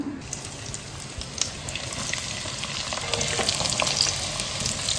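Garlic, ginger and green chillies frying in hot oil for chicken 65, a steady crackling sizzle that grows slightly louder, with light stirring scrapes up close, no talking.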